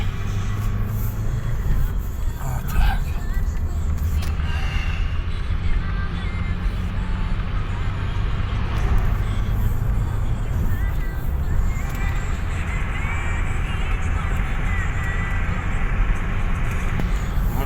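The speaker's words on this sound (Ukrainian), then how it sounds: "машина йде" A 1992 Ford Escort Mk5 estate car cruises along a highway at about 100 km/h, giving a steady low engine and road drone with tyre roar throughout; there is no talk.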